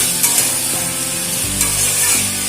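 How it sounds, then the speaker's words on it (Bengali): Cumin and green chili paste get stirred in a hot pan for a bottle-gourd curry, giving a steady sizzle with soft scraping strokes throughout, fairly close and loud, with no voices. "জিরে কাঁচা লঙ্কা দেওয়ার পর 2 মিনিট মতন নাড়াচাড়া করে নিলাম"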